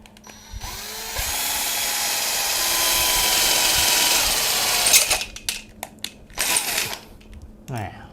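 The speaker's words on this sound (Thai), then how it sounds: "เราก็มาทำการเจาะร้อยน็อตได้เลย" A power drill whines steadily for several seconds while drilling bolt holes through a steel tube of a folding tent frame, then stops and restarts in short bursts, with clanks and handling noises between.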